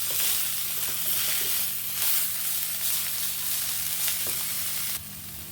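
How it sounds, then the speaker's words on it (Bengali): Banana blossom sautéed in a pan for a vegetarian Bengali mochar ghonto with rice, a loud continuous sizzle with stirring, close and unbroken, easing slightly at the end. "মোচাটা দিয়ে দিয়েছি আবার ভালো করে কষিয়ে নেবো"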